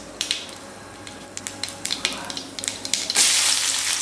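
Mustard seeds crackle and pop in hot groundnut or sesame oil in a pan, a run of sharp, close sizzling bursts that swells into a loud, steady hiss near the end.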